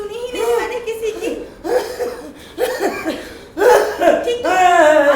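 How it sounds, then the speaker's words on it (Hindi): Several rough coughs come close together over about five seconds, near and loud, mixed with chuckling and laughter. "ऐसी रसीली, ऐसी सुरीली खांसी सुनी ही नहीं मैंने किसी की।"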